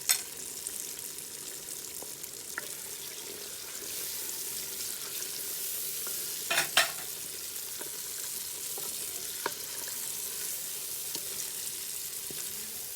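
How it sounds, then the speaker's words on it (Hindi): Tomato and spice masala for a degh-style desi chicken korma fries and sizzles steadily in a pot, with a few sharp clatters of stirring and scraping cutting through the continuous hiss. "फिर इसको थोड़ी देर के लिए और आपने भूनना है।"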